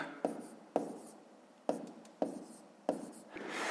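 Pen writing numbers by hand while working a fifth-grade math exercise: five or so short scratchy strokes, each starting with a sharp tap and trailing off, close up with no talking.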